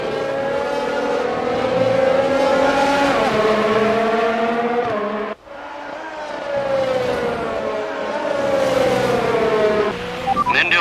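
Formula 1 car engine at Suzuka in the F1 2019 racing game, a loud sustained high-revving whine rising and falling through gear changes, with a brief dip midway before climbing again.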